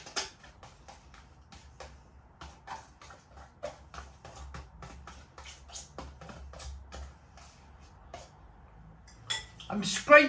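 Cutlery scraping and tapping the last bits of steak in ale with cheese cobblers from a plastic container, a run of sharp irregular clicks and scrapes close up, with a voice talking over part of it.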